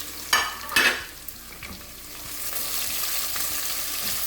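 Sliced onions hit a hot pan for a home pasta dish, starting with two short stirring clatters, then a steady close hiss of frying that builds and holds to the end.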